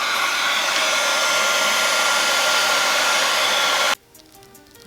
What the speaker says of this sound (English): I'm gonna come back with the heat gun and blow that around a little bit more.